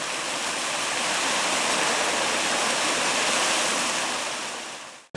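A waterfall on a canyon trail roars as a loud, steady broadband rush close by, unbroken for several seconds before cutting off with a brief knock at the end.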